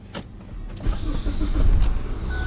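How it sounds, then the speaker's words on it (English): A Ford Fusion car engine cranks briefly, then catches and settles into a loud, steady idle rumble close by. "Starting the engine."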